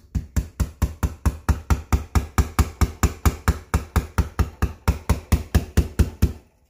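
A nail is used as a punch to tap a pin out of a braced carburetor in a steady series of about twenty-six close, evenly spaced metallic knocks at a quick, regular pace.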